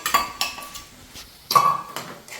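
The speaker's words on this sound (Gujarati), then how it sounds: "થોડીક વાર આવી રીતે સાંતળવાનું છે।" A spatula clinks and scrapes against a pan while green garlic sautés, in two bursts of metallic knocks separated by a quieter pause, close and fairly loud.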